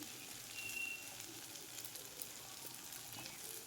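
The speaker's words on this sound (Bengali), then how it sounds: "মশলার সঙ্গে চানা কষিয়ে নিচ্ছি" Chickpeas sautéing with spices in a pan for chana masala, a faint, steady sizzle with soft frying crackle throughout, ending in a brief louder clatter.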